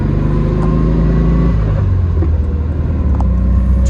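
A 1958 VW Karmann convertible runs down the road on a calm evening, its engine giving a steady, loud low rumble and drone throughout with a slight shift in pitch partway through, and no voices.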